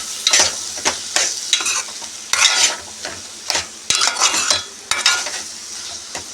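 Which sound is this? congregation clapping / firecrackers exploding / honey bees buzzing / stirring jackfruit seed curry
stirring jackfruit seed curry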